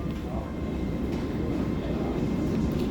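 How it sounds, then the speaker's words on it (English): An LNER passenger train pulls into Peterborough station on its way to York, a steady low rumble of wheels on rail, moderately loud, with faint voices underneath. "Incoming now, we have a LNER service to York."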